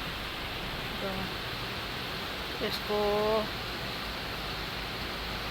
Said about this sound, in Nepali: भर्खरै पानी परिरहेछ